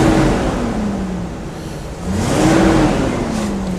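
A 1975 GMC motorhome engine fitted with new headers runs close by, a steady mid-pitched hum that dips briefly and then rises slightly in revs.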